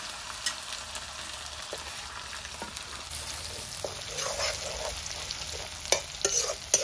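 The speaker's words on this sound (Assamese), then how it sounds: "আদা নহৰু পেষ্ট দি দিছোঁ গোটেই তিনিটা একেলগতে মিক্স কৰি দিছোঁ" Onion leaves stirred with ginger-garlic paste in a hot pan, a soft steady sizzle with scraping stirring strokes and a few clinks, close but fairly quiet.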